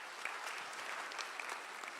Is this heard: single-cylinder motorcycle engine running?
no